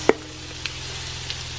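Sweet potatoes frying in hot olive oil in a pan: a constant close sizzling hiss, punctuated by a few light clicks, with no voices.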